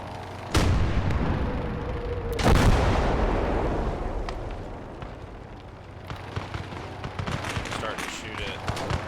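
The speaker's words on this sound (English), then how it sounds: "Starting to shoot at scouts over here, looks like." Field gun artillery in Gates of Hell fires two loud, booming shots about two seconds apart, each followed by a long rumbling decay, with smaller distant shots crackling afterward and a voice talking over the battle.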